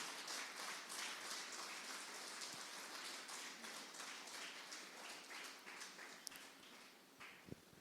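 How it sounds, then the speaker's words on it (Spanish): Church congregation clapping in applause, a faint dense patter of many hands spreading evenly throughout with a couple of sharper claps near the end. "Dale un aplauso al Señor"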